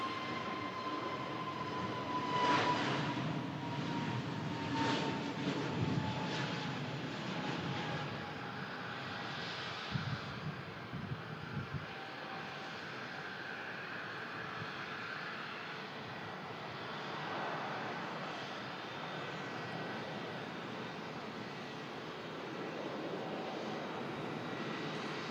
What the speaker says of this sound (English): There's the Scandinavian. He's midway through the takeoff roll.